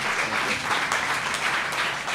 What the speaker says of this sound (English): How about a round of applause for our judges?